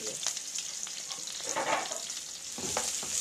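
Sliced onion, curry leaves and garlic sautéing in a pan for a raw banana poriyal, giving a steady close hiss of frying with brief soft scrapes of stirring.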